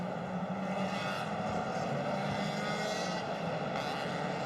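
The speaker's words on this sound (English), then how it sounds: "we hear those engines starting up on the grid" Race car engines start up on the grid at a Malaysia Championship Series round, blending into a dense, continuous mechanical roar heard from a distance, steady and unbroken with no voices.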